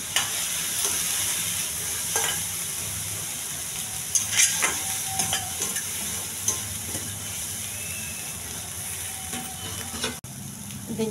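Chickpea tempering with chili powder and turmeric stirred in a pan, a soft continuous sizzle with repeated scraping strokes of the spoon against the metal, close and steady.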